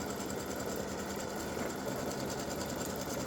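An embroidery machine stitches alignment lines with a steady, rapid, even mechanical whirr and needle chatter, close and continuous throughout, with no talking.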